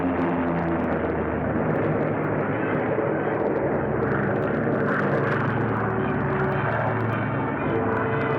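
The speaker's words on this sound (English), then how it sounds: "Bombers went out, and 6 are coming back." Propeller engines of WWII bombers drone steadily and loudly as they return and circle an Aleutian airfield to land, a dense continuous roar with no break and no voices.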